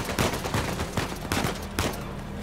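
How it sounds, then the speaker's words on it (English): Gunfire in the video game Uncharted 4: a dense fusillade of shots with sharp, repeated cracks over a constant loud battle din, with no talking. "You stop shooting at me."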